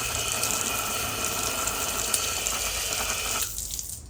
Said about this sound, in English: it will completely stop with the water flow